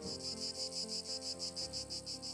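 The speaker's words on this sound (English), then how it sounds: "It's wonderful to hear the cicadas" A steady, pulsing insect buzz of cicadas, rhythmic and close, with a faint low hum beneath and no voices.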